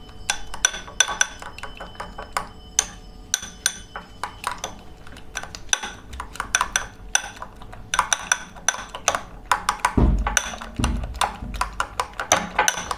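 A spoon clinks rapidly against a bowl while egg, Maggi noodles and grated coconut are mixed into omelette batter, making sharp, irregular taps close by and a few heavier knocks near the end.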